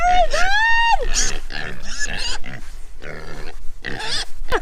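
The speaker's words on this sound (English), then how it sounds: "Pig on the loose." A loose pig grunts and squeals up close in a run of rough, throaty calls, opening with a rising high squeal, while people's voices mix in around it.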